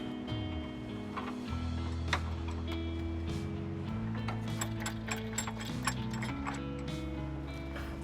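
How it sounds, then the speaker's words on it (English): A 13mm socket and ratchet tightens three M8 bolts while fitting a trailer hitch to a Honda CR-V, giving steady close clicking of the ratchet pawl with metallic tool rattles. "we're gonna go ahead and tighten down our 3 M8 bolts. Use a 13mm socket to tighten them."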